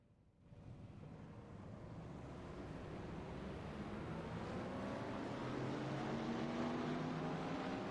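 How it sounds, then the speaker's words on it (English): Race cars at Sebring fire up their engines before a single pace lap, a broad rumbling drone that starts abruptly after a brief quiet moment and builds into a steady, loud, sustained roar of many engines idling together, with some wind noise. "All cars coming to life"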